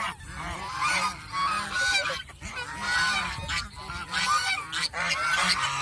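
Domestic geese on a farm honk in loud, repeated bursts, a close, busy flock calling over and over with brief gaps between volleys.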